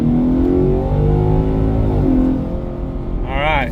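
A 2024 Ford Mustang fitted with a Solar Performance electronic throttle controller revs hard in sport mode, its engine note climbing and winding out, dipping, then rising again, loud and close with speech on top.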